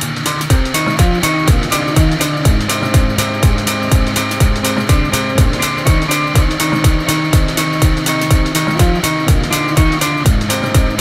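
A Yamaha TDR 125 motorcycle pulling hard in fourth gear to overtake on a country ride, its two-stroke engine a loud, steady buzzing drone with a rapid, even pulsing rhythm that holds on without a break.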